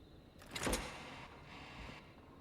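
A door opening in the video game Killer Frequency, a short mechanical slide and thud heard faintly at close range with no voices.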